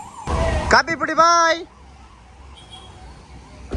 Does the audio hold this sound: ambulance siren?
yes